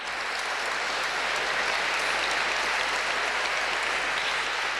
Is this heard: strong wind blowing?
no